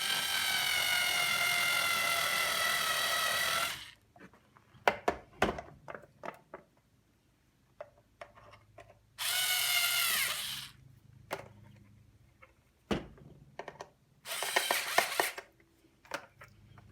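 A cordless power driver runs screws into a replacement faceplate on a COBRA 18M, with three separate whirring bursts of a few seconds each, separated by clicks, knocks and handling clatter in between.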